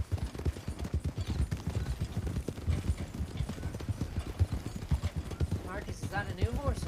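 Video-game horse hooves clip-clop in a steady trotting rhythm while people talk over them, with the hoofbeats holding a close, even pace throughout.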